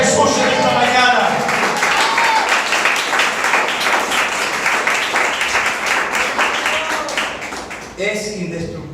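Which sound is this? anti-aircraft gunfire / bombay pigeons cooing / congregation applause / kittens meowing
congregation applause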